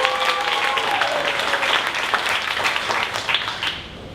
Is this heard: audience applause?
yes